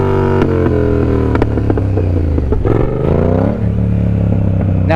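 A motorcycle engine revs hard and close as the rider lifts into a slow wheelie. The harmonic growl climbs and wavers in pitch, with brief clattering and scraping sounds mixed in.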